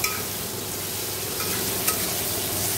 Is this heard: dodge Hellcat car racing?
no